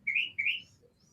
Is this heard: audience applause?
no